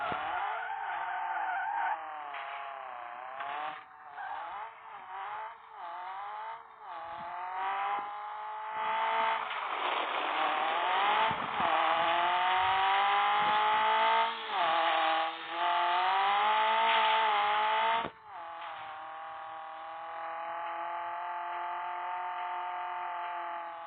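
A racing video game car engine whines loudly and without a break, its pitch sweeping up and down through the gears, while tyres skid and squeal repeatedly through the corners.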